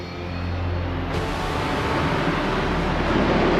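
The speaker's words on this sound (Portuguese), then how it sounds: "um Harrier precisa de apenas 180 metros de pista para decolar" A Harrier jet with its single Pegasus engine taking off, a loud, steady broadband roar that swells slightly and stays close and powerful throughout.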